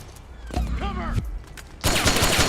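Gunfire in Metal Gear Solid 4, starting with a voice shouting over sparse shots, then bursting into a loud, dense volley of rapid automatic fire that keeps going to the end.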